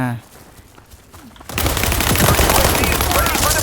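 Heavy automatic gunfire erupts in the World War 3 shooter, a dense, loud barrage that bursts in after a quiet opening and continues without pause, with a voice talking over it.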